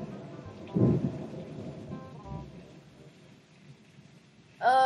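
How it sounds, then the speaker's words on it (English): A low rumble of thunder rolls under a soft patter of rain, with a brief tonal chime breaking in at the end. "It's raining, thunderstorming here."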